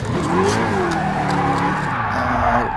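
A race car spins and skids in the Gran Turismo Sport racing game, played in VR: a loud, close engine drone with wavering, squealing tire tones throughout, with no talking.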